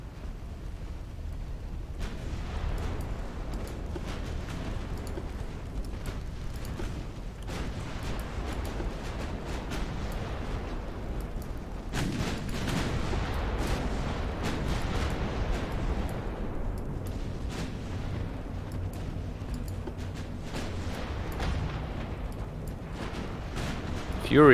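Distant, muffled booms from battleship guns in an Ultimate Admiral Dreadnoughts naval battle of the 1900 British campaign, irregular rumbling salvos under a constant low background, with someone talking over them.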